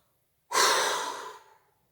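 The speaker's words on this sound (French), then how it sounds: "Soufflez fort ou criez." One forceful exhalation bursts out after a held breath during a sophrology emotional-release exercise. It is a sudden, loud breathy rush that fades over about a second, with silence before and after.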